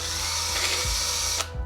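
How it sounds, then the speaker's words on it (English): Power drill enlarging and elongating mounting holes through a template for a servo bracket, a steady whirring drive running continuously with brief low thumps near the end, close and fairly loud, no voices. "you can take the drill bit as a helpful hint, and you can enlarge and elongate the holes slightly"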